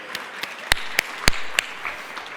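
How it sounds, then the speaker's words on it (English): Scattered claps ring out from a keynote audience at an education summit, a handful of sharp, separate hand claps spaced unevenly over a couple of seconds in a quiet hall. "That's worth a clap"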